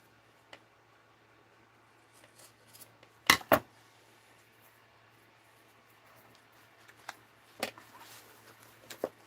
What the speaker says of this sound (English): I hate using these scissors, but it's fabric.